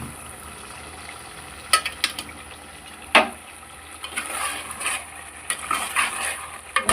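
A simple gravy mutton curry with chili powder cooks in a pot, a low bubbling simmer broken by a few sharp clinks and scraping stirs of a spoon against the pot, close and fairly quiet, without talk.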